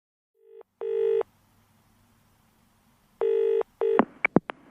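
A telephone number is dialed on a desk phone at a bank office: a short tone, a pause, then a string of clear, loud keypad beeps in quick succession, with no voices.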